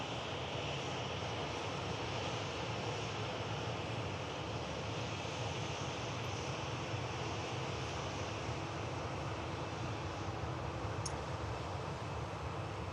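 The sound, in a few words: airliner at Manchester Airport, Turkish Airlines A321neo departing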